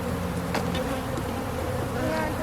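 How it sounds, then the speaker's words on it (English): Honey bees swarming in a dense ball at the bottom of a hive, a thick continuous buzzing drone filling the space up close, steady and loud throughout with no voices. "There's a big ball of bees on the bottom."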